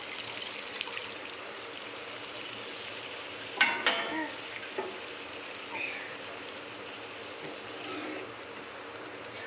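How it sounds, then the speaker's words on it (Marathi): Cooked chickpeas and moth beans are tipped into hot oily masala, setting off a burst of sizzling and a short pouring splash that settles back into a steady, gentle frying hiss. "आता याच्यामध्ये मी हे शिजवलेले हरभरे आणि मटकी टाकून देते।"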